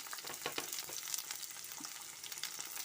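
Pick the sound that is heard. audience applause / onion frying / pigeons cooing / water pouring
onion frying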